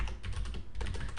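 Fingers type a terminal command on a computer keyboard, with rapid close clicking keystrokes in a quick burst.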